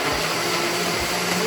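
A blender purees seasoning with orange juice for a pork carnitas marinade, a loud, steady whirring roar filling the brief moment without talk.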